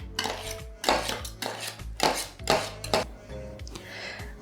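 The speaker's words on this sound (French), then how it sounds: "c'est juste pour mélanger le tout avec la préparation et aussi les œufs." Crushed tomatoes and eggs being mixed in a pot, with rhythmic clanks and scrapes of a utensil against the pan in several close, distinct strokes.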